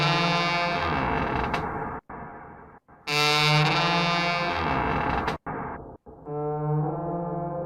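Creaking from a noisy old house door, processed with reverb and EQ, becomes long, loud, horn-like tonal moans with brief gaps between swells, heavily colored and echoing throughout.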